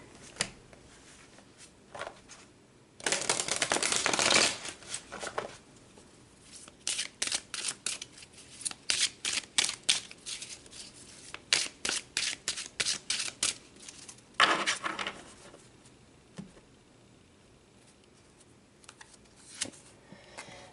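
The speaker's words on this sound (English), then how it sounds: "So let's pull some more cards and go deeper." Tarot cards are shuffled close by in a quiet room, a burst of riffling followed by a long run of quick, crisp flicking taps, then another short riffle and a few scattered taps.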